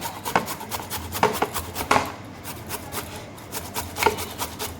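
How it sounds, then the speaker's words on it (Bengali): An unpeeled potato rubbed across a grater in steady rasping strokes, about one scrape per half second, close and moderately loud with no talking. "আলুটাকে আমি এভাবে গ্রেড করে নেব"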